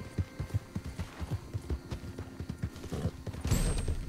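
A horse gallops in the Red Dead Online western video game, its hooves beating a steady, rapid clip-clop rhythm that grows into a louder rush of noise near the end, with no voices.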